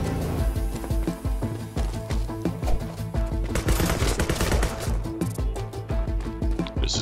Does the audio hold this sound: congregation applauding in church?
no